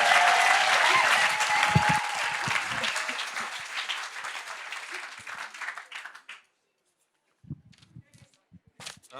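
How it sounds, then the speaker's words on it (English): Audience applause for two guests at a morning sofa-session event, loud steady clapping that fades and stops, followed by a few scattered claps and small sounds. "A round of applause for Tina and Johannes."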